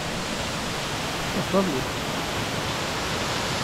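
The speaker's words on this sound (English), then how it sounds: "It's a nice waterfall here as well." A waterfall on a trail in Monteverde, Costa Rica, gives a constant, loud rushing roar, and a person speaks a few brief words over it.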